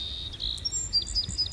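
Wild birds calling outdoors in the morning, with thin high chirps and short twittering notes repeating at a middle distance over faint low background rumble.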